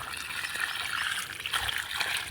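Irrigation water from a pump motor flows and splashes steadily, a continuous close trickle and rush with no pause.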